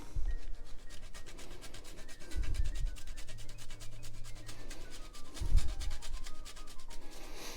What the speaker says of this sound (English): I'm going to grate in a little bit of pecorino romano